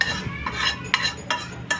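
Spices tempering in hot oil in a pan for a ripe red chilli pickle, giving a soft sizzling hiss punctuated by several sharp metal spoon clinks against the pan.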